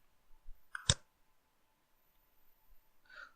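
A computer mouse clicks once on the Eclipse launch icon, a single sharp, close click in an otherwise quiet room.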